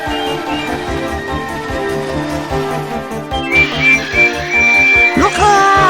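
A steam engine's whistle sounds in a children's railway story about a runaway tank engine in a yard. It enters partway through as a steady, shrill tone over orchestral music and ends in a brief sliding cry.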